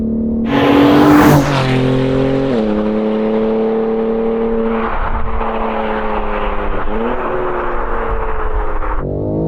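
Powerful BMW M3 G80 tuned past 700 horsepower accelerating hard, its engine roaring loud and close with rising pitch sweeps as gears change, a sharp burst at the start then sustained high-revving drive.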